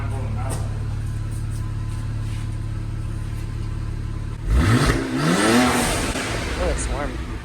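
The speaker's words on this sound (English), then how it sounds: "Let me give you some revs and make sure we don't blow a gasket out of it right away." A BMW 535xi wagon with an exhaust leak revs up from a steady idle, its engine climbing loud and rough in a couple of rising bursts before settling, close by.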